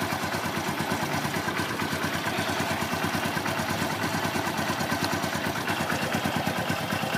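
A motorcycle engine with a kick starter idles steadily and close by, a continuous even putter with a faint mechanical clatter, while its battery voltage and charging system are checked.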